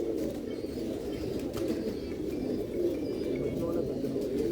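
Pigeons cooing steadily on a rooftop in Lahore, a soft continuous murmur of low coos with faint background noise throughout.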